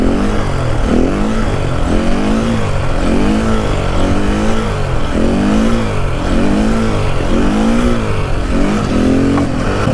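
A motorcycle engine revs during a wheelie, a loud continuous roar rising and falling in repeated waves as the throttle is worked, close and steady throughout.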